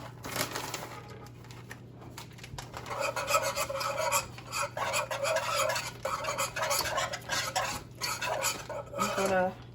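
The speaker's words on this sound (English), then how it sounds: "begin sprinkling that cheese in, kind of mixing that around" Cheese is stirred into hot sauce in a pan for scalloped potatoes, with a steady scraping and rubbing of a utensil against the pan and a soft sizzle underneath, moderately close.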